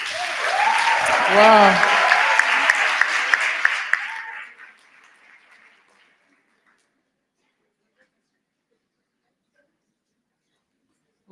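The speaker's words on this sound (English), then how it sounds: "a round of applause for them" A school career day audience breaks into loud, sustained applause with cheering for about four seconds, then the clapping fades quickly to near silence.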